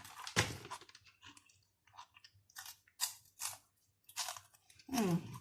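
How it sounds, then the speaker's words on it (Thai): Crunchy chewing and biting on a crispy fried pork snack from a twenty-baht bag, close and loud, in several irregular bursts with quiet gaps between bites. "กินไปด้วยนะคะเคี้ยว"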